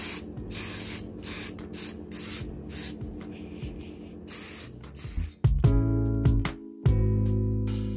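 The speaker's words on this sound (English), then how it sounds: "we are going to be using some spray paint to do some DIYs" Aerosol spray paint can hissing in long continuous bursts for DIY fall home decor, close and loud, with short pauses and clicks between sprays and a low background hum.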